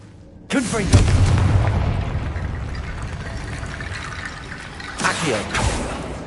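In Hogwarts Legacy, a Confringo spell sets off a heavy booming explosion with a long decaying rumble, followed a few seconds later by another crackling blast.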